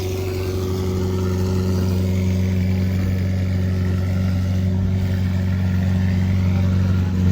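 A Ferrari 458 supercar idles after starting, its engine a steady, deep hum with a low droning tone that holds evenly throughout at close range, with no voices over it.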